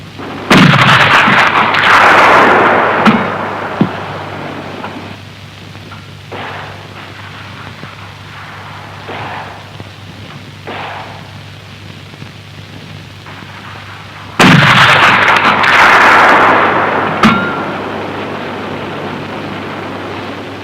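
A 1960s gun fires at a target over 1,200 meters away during a training exercise: two heavy, booming reports about fourteen seconds apart, each with a long rumbling decay, and a quiet low hum in between.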